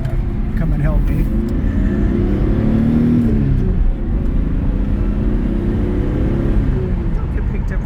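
A 1982 Datsun 280ZX pulls hard in second gear with a steady, loud, rising engine roar heard from inside the car, while people talk over it.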